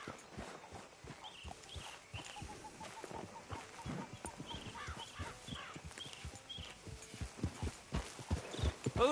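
Horse hooves clip-clop steadily at a walking pace in the Red Dead Redemption 2 video game, a continuous run of close, moderately loud hoofbeats with faint ambient outdoor sound and no talking.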